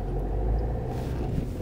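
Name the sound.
car accelerating and pulling away during a driving lesson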